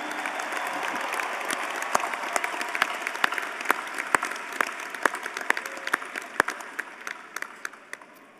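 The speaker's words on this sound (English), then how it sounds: "I want to invite one more round of applause for all those who are active or veteran in" The audience at a college commencement ceremony gives a dying round of applause, thinning to scattered individual claps, fairly faint and slightly distant in a large hall.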